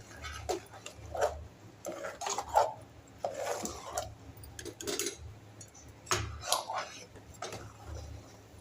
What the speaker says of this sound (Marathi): ढवळत राहायचं सारखं, नाहीतर मग खाली लागणार ते करपणं.